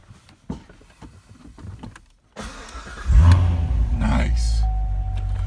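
A 2015 Chevrolet Corvette Stingray Z51 with a seven-speed manual fires up from inside the cabin: a quiet clunk, then the engine catches with a loud low roar and settles into a deep, steady idle.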